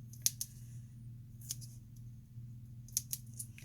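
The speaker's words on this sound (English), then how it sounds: "You see me cutting these little pieces that were not, they're not even intended to be used" Small scissors make quick snips through little scraps of dimensional stickers for treat bag toppers, with several sharp close clicks in short clusters over a faint low hum.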